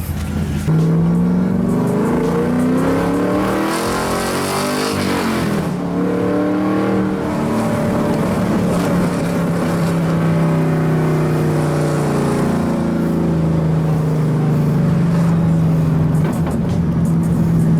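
A 2012 Camaro SS 45th Anniversary with its mufflers cut off, the V8 droning loudly under steady driving and shifting pitch as it accelerates, heard from inside the car without talk.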